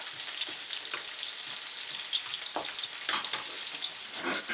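Carrots, pepper and celery sizzle in a hot pan while being tossed and stirred, a continuous loud frying hiss broken by scraping spatula strokes.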